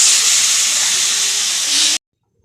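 Water poured into a pan of frying spice mix sends up a loud, steady sizzling hiss that holds for about two seconds and then cuts off abruptly into silence.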